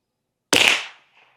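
A single sharp rifle shot firing a Norma TAC-22 round at an outdoor range, loud and close, with a brief decaying tail and faint echo after silence.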